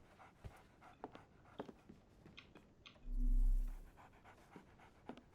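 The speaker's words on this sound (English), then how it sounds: "So, Barnes has a dog now." A dog in the video game Sherlock Holmes: Awakened pants in quick, soft breaths amid faint background clicks and rustles, with one brief low swell of sound midway.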